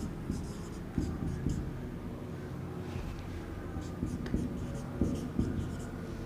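A word is handwritten by hand during a reasoning lesson, giving soft, scratchy strokes that come in short irregular bursts against a steady background hum.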